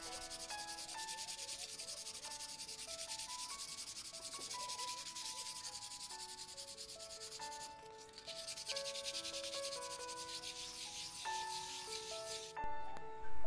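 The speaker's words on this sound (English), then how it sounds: "I sanded the top of the board to prepare it for painting" Steady hand sanding across the top of a wooden board for a DIY cake stand, a continuous close scratchy rubbing with brief pauses and no talk.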